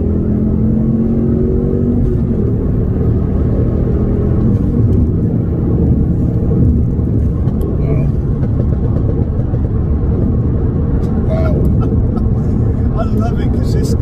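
A MK2 Ford Focus ST accelerates through the gears, heard from inside the cabin as a loud continuous engine drone rising in pitch with each gear, while people talk over it.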